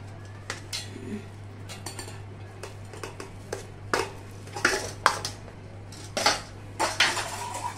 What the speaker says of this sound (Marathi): आता याच्यामध्ये मी हा भात जो आहे उकडलेला टाकणार आहे.